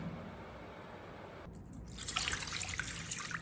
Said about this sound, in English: Pour water into a pot covered with a lid and bring it to a boil over high heat.